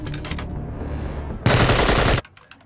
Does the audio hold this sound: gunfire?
yes